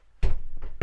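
A sliding toilet door in a caravan is pulled shut, giving two close, solid thumps less than a second apart in a quiet room.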